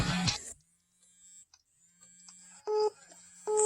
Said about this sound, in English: Dismiss. That's the alarm.